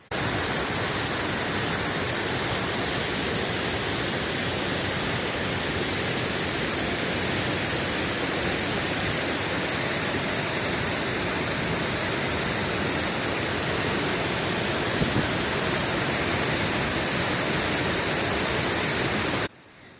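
Waterfall in Rajanna Sircilla running in heavy flood flow after continuous rains: a dense, steady, loud roar of crashing water heard close and unbroken for the whole stretch, cutting off sharply at the end.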